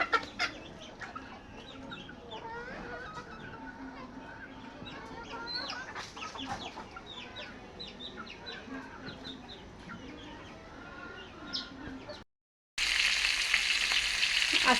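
Chickens cluck and squawk busily while being fed in separate rows, many close birds chattering continuously before a brief silence and an abrupt burst of loud hissing noise.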